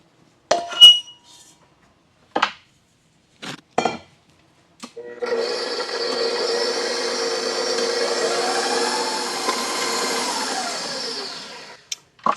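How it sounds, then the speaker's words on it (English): A few glassy clinks against a bowl, then an electric mixer whirs steadily for several seconds while flour is mixed into blueberry crumbcake batter, close and moderately loud, with its pitch shifting slightly before stopping. "I'm going to mix in my flour."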